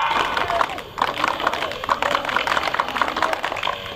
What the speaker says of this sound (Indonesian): Coba tepuk pramukanya bagaimana?